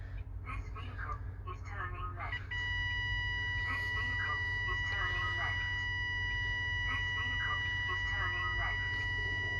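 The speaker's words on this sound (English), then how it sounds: "you get the audible warning for the driver on the inside" A blind spot obstacle warning alarm sounds inside the cab of a MAN TGX truck fitted with a DVS kit, a steady electronic tone that starts partway in and holds over the low engine rumble, with faint voices in the background.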